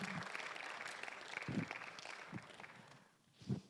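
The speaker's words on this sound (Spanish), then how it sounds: "Give a loud applause to the Lord." A church congregation applauds in a large room, with scattered, moderate clapping and a few louder bursts that fade out.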